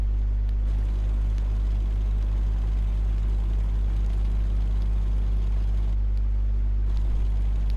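Continuous low engine rumble of a tank driving in the console version of World of Tanks, a steady droning hum with faint mechanical clatter, moderately loud and alone without talk.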